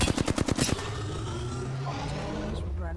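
Video game gunfire for a headshot: a rapid burst of loud shots rattles out in the first moment, then gives way to a steady engine-like drone.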